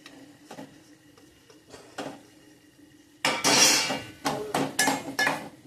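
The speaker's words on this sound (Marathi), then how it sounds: "त्याच्यामध्ये काजू घालूया आपण आता." Fresh cashews go into a pan of fried curry masala, and a burst of clinks and sharp metallic knocks follows, loud against a quiet background, after some fainter clatter earlier.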